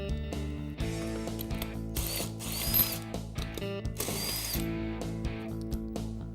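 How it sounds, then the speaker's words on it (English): Power tool with a 3/4 socket spinning bolts off a Club Car golf cart front hub, a close, loud ratcheting whir in several bursts separated by short pauses. "using a 3/4 socket, let's go ahead and remove the 4 bolts"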